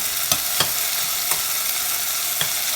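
Onions frying in a pan with chillies, fennel seeds and fenugreek for a soya meat curry, a steady close sizzle broken by a few soft stirring clicks, with no talking.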